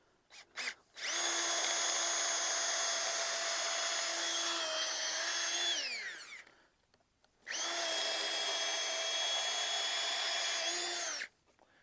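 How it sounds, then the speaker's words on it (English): A cordless drill bores into the center of a wooden fence post for a high-tensile H brace, whining loudly in two long steady bursts that wind down between them, close and with no talk. "we're gonna go into the center of this post, and we're gonna do the same thing. We're gonna drill in halfway."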